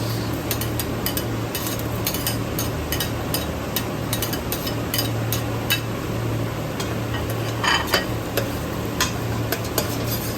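Garlic, onion and ginger stirred in a pot while making lugaw, a Filipino rice porridge: steady scraping and clicking strokes repeat through the whole clip over a low constant hum, fairly close, with no voices.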